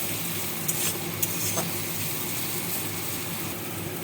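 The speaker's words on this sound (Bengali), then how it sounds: "পেঁয়াজটা যখন এরকম ভাজা হবে" Onions frying in a pan for a spice-free homemade paneer curry, giving a steady, moderate sizzle with a couple of brief utensil clicks and no talking.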